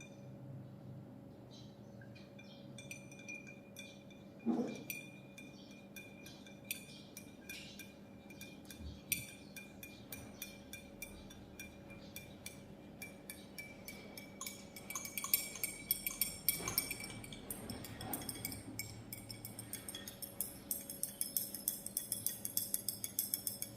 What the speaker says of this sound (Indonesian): Sekarang kita masukkan secara perlahan sambil mengaduk, yaitu NaOH ke dalam minyak goreng tadi.